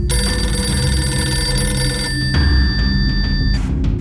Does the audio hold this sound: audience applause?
no